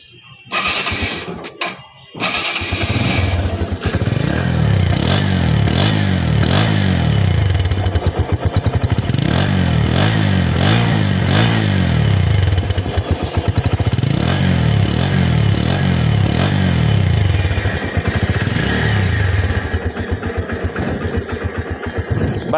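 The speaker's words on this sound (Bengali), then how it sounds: "আর বাইক যখন থ্রোটল দিচ্ছি, মানে পিক আপ দিচ্ছি" A motorcycle with its original cables idles close by and is revved repeatedly with the throttle; the engine note climbs and falls in loud, rolling sweeps with a faint mechanical clatter.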